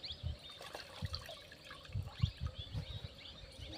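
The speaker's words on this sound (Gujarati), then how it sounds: "પાણીમાં ડબોળી જવાનું એટલે મિત્રો ધોઈ પડી જાય." Fresh spinach leaves dipped and swished in water for washing, with soft low sloshing and dripping splashes in an uneven rhythm, close but quiet, no voices.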